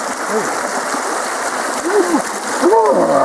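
Spring water at Carreg Cennen splashing and trickling steadily nearby, with a few brief louder splashes as it is scooped by hand; voices talk faintly over the running water.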